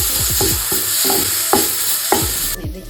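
Ginger garlic paste fries loudly in a pan, a dense close sizzle punctuated by rhythmic scraping strokes of a spatula roughly every half second, cutting off abruptly near the end.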